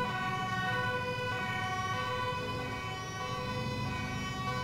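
Ambulance siren in the video game GTA 4, a continuous electronic wail with steady harmonic tones holding at even loudness throughout, close and dominant with no talk over it.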